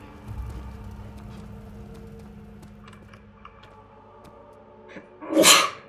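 A single sharp, loud sneeze bursts out near the end in the Amnesia game, following a few seconds of faint keyboard tapping and low background rumble.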